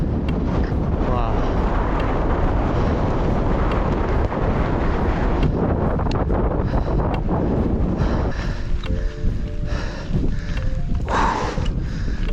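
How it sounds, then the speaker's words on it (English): Strong wind buffets the microphone on an open hilltop during a mountain bike ride in the Mendips, a loud continuous roar with gusty surges throughout. "The wind is definitely picking up"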